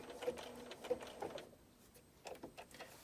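A sewing machine stitches slowly around an appliqué piece in short, quiet bursts, pausing between runs as the fabric is lifted and turned, with soft mechanical clicks close by.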